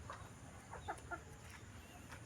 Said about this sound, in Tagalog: Yan yung manok.